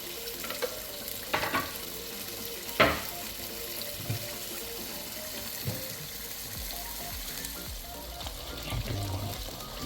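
Fish frying in oil for a fish shorba, a steady close sizzle with occasional clinks and knocks from stirring, no voices.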